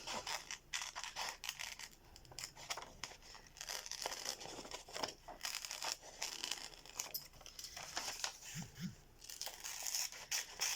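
Scissors cutting through the fabric of a trench coat jacket, a steady run of crisp snipping, tearing and crinkling sounds close up, with no one speaking.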